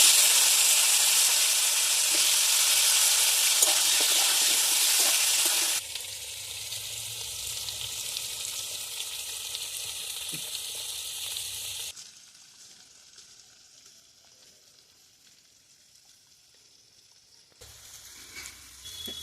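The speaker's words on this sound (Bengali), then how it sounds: "আলুগুলো ভাজা হয়ে গেছে" Cut potatoes frying in oil with dried chilli, bay leaf and five-spice, a loud steady sizzle that settles lower, then drops to a faint hiss before flaring up again at the end.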